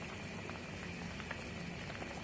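Potato and egg curry bubbling and sizzling steadily in a pan as oil-fried eggs go in, a continuous soft simmering hiss with faint pops, no voices.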